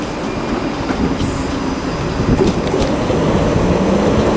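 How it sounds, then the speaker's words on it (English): ScotRail class 334 electric train pulling into Haymarket station in Edinburgh, a rolling rail rumble with faint wheel squeal and clicks over the rails, growing a little louder as it nears. "approaching in now is the 1624 ScotRail service from Milngavie to Edinburgh Waverley"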